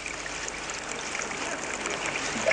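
Water pours steadily from the La Fonfreda spring fountain in a continuous, close splashing trickle on an excursion between Pena-roja and Vallibona, heard alone with no talk.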